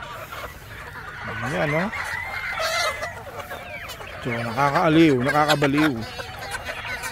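Chickens cluck and a rooster crows in two bursts at a farm flock of young birds, with people talking nearby between and over the calls.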